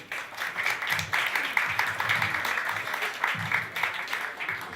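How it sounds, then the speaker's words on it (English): At a cultural evening, an audience applauds two heritage group speakers with steady, moderate clapping from a hall crowd, somewhat distant and even for nearly five seconds, with a faint murmur underneath. "Give them a big round of applause, please."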